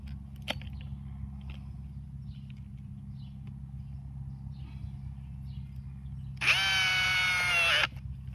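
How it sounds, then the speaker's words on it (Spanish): A power screwdriver drives a screw into an LED flood lamp in one short, loud whirring burst near the end, after a long quiet stretch with only faint handling clicks and low hum. "vamos a poner aquí el primer tornillo y viramos al otro lado y ponemos el otro tornillo aquí"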